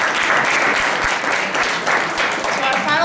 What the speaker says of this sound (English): One more round of applause for those amazing ladies.